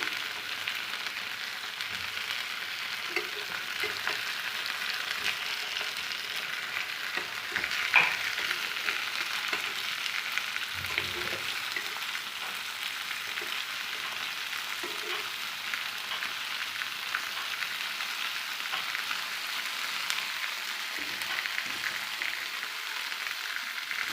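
Mango chutney ingredients with garlic fry in a pan, giving a steady soft sizzle with occasional scrapes and stirs, fairly quiet and close, with no talk.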